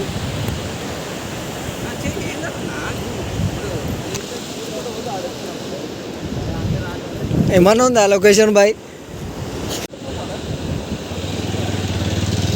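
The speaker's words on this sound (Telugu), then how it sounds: "ఇంత స్పీడ్ ఇంత సౌండ్ వస్తుంది ఇక వాటర్" Fast-moving water rushes with a steady roar, while a person speaks briefly over it partway through.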